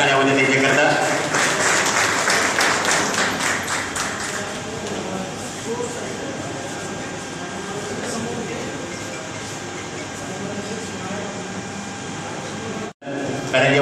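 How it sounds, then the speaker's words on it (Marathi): Loud, sustained applause from an audience at an award ceremony honouring a guest, the dense crowd clapping filling the space for over ten seconds before cutting off sharply near the end. "त्याला जोरदार टाळ्या त्यांच्याकरता"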